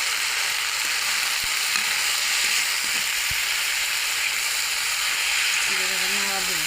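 Gorkhatta chutney with a little salt sizzles steadily in a frying pan, a constant loud hiss with a few faint scrapes of stirring and a brief voice near the end.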